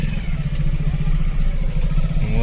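Motorcycles pass at a highway toll gate with a steady, close, mid-pitched engine drone and light clatter, their throb continuous throughout without talk.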